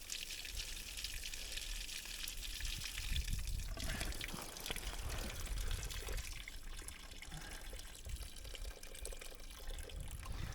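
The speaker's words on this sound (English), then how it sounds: "that's flushing through the whole water jacket of the engine" Water rushes steadily through an ATV engine's water jacket during a coolant flush, a continuous close hiss and trickle with no voices.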